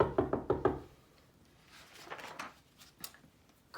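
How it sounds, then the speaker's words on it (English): Knocking on a front door: four quick, evenly spaced raps close by, followed by a faint rustle and quiet background noise. "Then they drove home and knocked on their front door."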